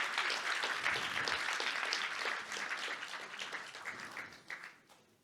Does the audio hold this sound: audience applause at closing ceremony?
yes